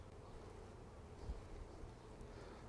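Honey bees hum in a soft, steady, faint drone throughout an open beehive inspection during a nectar flow, with one brief low thump partway through.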